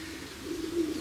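A racing pigeon arriving back at its loft on a hot day after a 633 km race gives one faint, low, drawn-out coo against quiet outdoor hiss.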